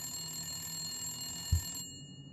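An old-school telephone rings in The Long Dark, a steady high electric bell tone sounding alone and then cutting off abruptly, with a dull thump just before it stops.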